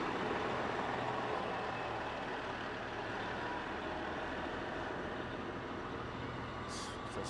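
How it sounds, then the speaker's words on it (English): A large fire truck rumbles past in a parade with a steady, broad engine roar that stays fairly even throughout, heard from a moderate distance. "Another truck from the Holt Summit Fire District."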